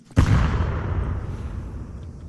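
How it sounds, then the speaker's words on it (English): Molotov fire grenade in Counter-Strike 2, a sudden close burst of flame that ignites with a sharp onset and then roars as a steady broadband fire whoosh, slowly thinning out. "Molotov."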